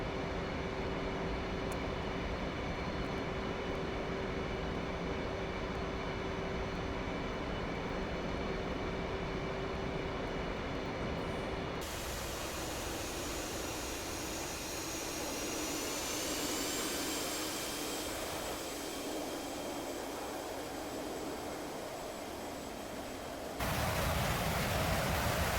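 Simulated F-15E Strike Eagle jet engines droning steadily through a low-level transit in DCS over the Caucasus, a continuous loud broadband roar with a whining tone that shifts in character partway through and swells again near the end.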